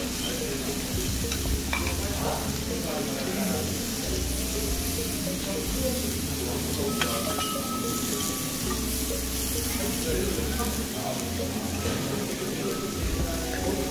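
Steak sizzling on a preheated iron plate, served with corn and potatoes at a steakhouse lunch, gives a steady close crackling hiss with soft clinks of dishes and faint background murmur throughout.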